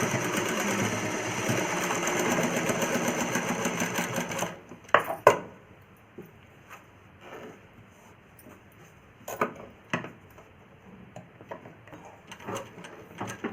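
Sewing machine stitching a child's umbrella frock, a steady close whirring run of stitches followed by scattered clicks and handling knocks.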